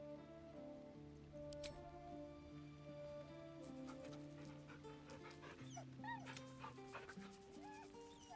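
Scratch, a dog in the video game Baldur's Gate 3, whimpers and yips in soft, rising whines. The calls sit over a sustained musical score with scattered sharp game effects, all fairly quiet.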